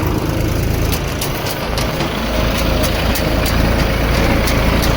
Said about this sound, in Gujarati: ટ્રેક્ટર આગે છે રહ્યા.